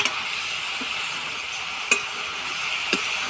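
Chopped bottle gourd sautéing in a pan gives a steady, even sizzle throughout, with a couple of sharp clicks of a utensil against the pan and no talk.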